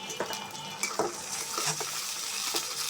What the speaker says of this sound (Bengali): পেঁয়াজটা আমি একটু সুন্দর করে হালকা ভেজে নেব